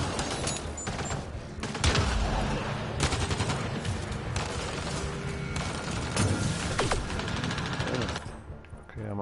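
Rapid pistol gunfire in the sci-fi shooter Mass Effect Andromeda, bursts of sharp close shots layered over game effects and a dense booming background, continuing through most of the stretch before tapering near the end.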